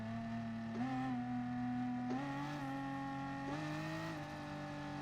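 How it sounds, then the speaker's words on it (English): Race car exhaust from the GT Sport video game: a steady, loud engine drone whose pitch climbs and drops in steps through several gear changes, heard alone with no talking. "Listen to that. The exhaust note sounds really good."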